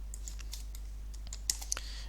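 Arrow keys on a computer keyboard tapped while drawing in SketchUp, a few faint, light clicks spaced irregularly over a steady low hum.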